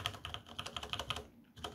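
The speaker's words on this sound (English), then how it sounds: "Cherry MX Brown, there's a reason why they are the most popular Cherry MX keys" Typing on a mechanical keyboard with Cherry MX Brown switches, a quick irregular run of crisp keystrokes, close and fairly quiet, with a short pause before the tapping resumes.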